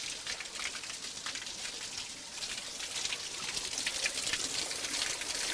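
Water runs from an Inca stone fountain at Machu Picchu, a soft continuous trickle and splash heard alone at low level, swelling slightly toward the end.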